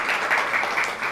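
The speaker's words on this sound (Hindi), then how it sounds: "ज़ोर से तालियां हो जाए।" Brief burst of audience applause at a women's day celebration, steady dense clapping filling the hall at moderate loudness with no voices over it.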